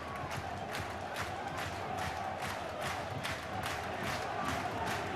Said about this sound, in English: It's a good atmosphere, twice the normal crowd they normally get at Adams Park.